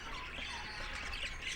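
A rescued pet parrot squawks in a rapid, continuous run of harsh calls, close and fairly steady in loudness over about a second and a half with no talking.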